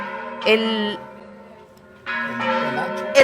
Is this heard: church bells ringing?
yes